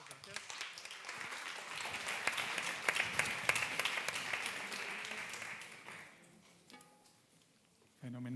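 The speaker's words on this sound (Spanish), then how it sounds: "Un aplauso," Audience applause at a wine tourism talent conference in Haro, La Rioja, Spain: steady, fairly loud clapping from a seated crowd for about six seconds, then fading into a quieter room before a voice begins at the end.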